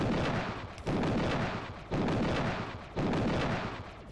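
Heavy gunfire booms repeatedly while shooting enemies in the Factorio video game, with four loud, evenly spaced blasts, each decaying into a rumbling tail, and no talk.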